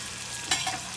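Potatoes frying in a hot pan for a Bengali fish-head and cabbage dish: a steady, soft sizzle with a brief clatter and stir about halfway through, no voices.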